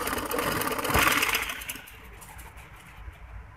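A sewing machine runs at close range as it stitches piping cord, a fast whirring hum that fades and stops midway, leaving quiet room noise.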